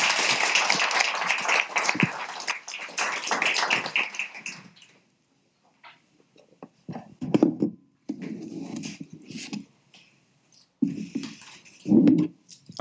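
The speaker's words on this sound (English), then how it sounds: "let's give one more round of applause for John." Scattered clapping from a conference audience at a lightning talks session, a busy patch of applause at first that thins into sparse bursts of claps separated by brief quiet gaps.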